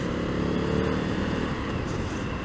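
2019 Indian FTR 1200S motorcycle engine while riding in second gear, a fairly quiet rumbling drone with wind noise, brief and steady without talk.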